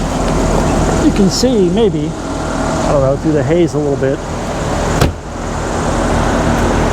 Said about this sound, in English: the idle is terrible. It's just choking out,